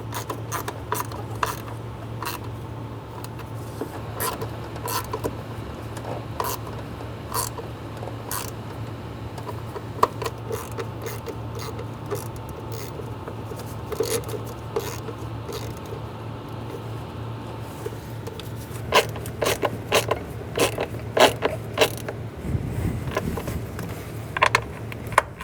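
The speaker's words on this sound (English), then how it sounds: "Go around and snug down all the bolts." A ratchet snugs down bolts during a crankshaft position sensor replacement on a 2003–2008 Honda Pilot engine, giving repeated close, sharp clicking bursts in irregular runs over a steady low hum, with no talk.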